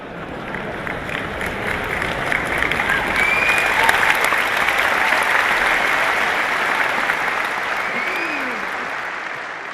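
An audience applauding at a motivational seminar, dense sustained clapping from a large crowd that swells slightly in the middle and continues steadily throughout.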